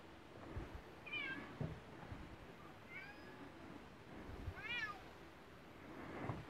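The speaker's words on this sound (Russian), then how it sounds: "Для чего этот мяу?" A cat meows three times, short wavering calls spaced about two seconds apart, fairly close but quiet over a low background rumble.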